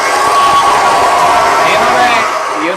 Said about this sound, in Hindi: आपके लिए बहुत सारी तालियां।